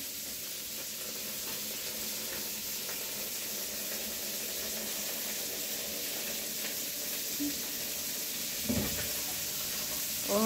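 Shrimp grilling while being brushed with melting butter, giving a steady, faint sizzle throughout with a few soft clicks and scrapes near the end.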